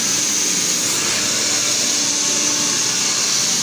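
A blue blow dryer runs steadily while a brush combs through freshly ironed hair in a salon, giving a constant loud airy whoosh with a high whine, without pause, and no voices over it.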